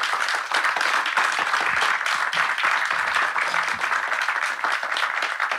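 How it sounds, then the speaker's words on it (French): An audience applauds the speakers of a round-table discussion, a steady patter of many clapping hands, moderately quiet and sustained throughout without talk. "Je vais d'abord demander au public de bien vouloir applaudir nos intervenants qui ont été brillants."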